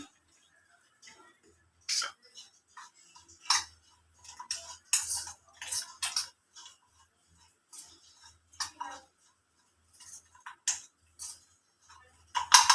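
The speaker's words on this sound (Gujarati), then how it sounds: "આ બધું આપણે પહેલા મિક્સ કરી લઈશું આવી રીતે" Shing bhajiya ingredients being mixed in a bowl with a spoon, giving irregular light clinks and taps in bursts with quiet gaps between them.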